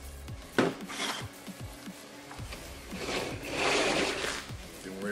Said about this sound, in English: We're going to deburr.